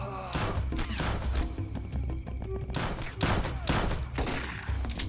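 Dense gunfire in the XPiratez strategy video game, with repeated heavy shots and bursts crowding together into a loud, continuous volley over a low rumble.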